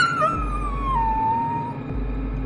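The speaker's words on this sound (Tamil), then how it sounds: "ஓடையின் அக்கறையில் இருந்து சென்னாய் ஊளையிடுவதை போன்ற ஓசை கேட்டது" A dhole, the wild dog, howls from across a stream: one long, wavering, tonal howl that slides gradually downward, moderately loud and somewhat distant, over low background noise, with no talk.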